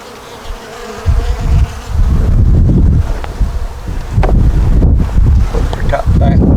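Honeybees from a nuc hive made from a queen castle buzz loudly and close by in a continuous drone, with gusts of wind striking the microphone.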